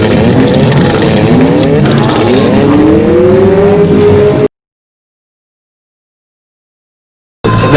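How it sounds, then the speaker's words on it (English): Stock car engines roar and rev at a banger demolition derby on a raceway, loud and close with rising engine pitch sweeps, then cut off abruptly into silence before briefly returning. "707 is just trying to get his car going"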